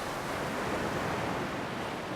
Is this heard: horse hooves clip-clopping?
no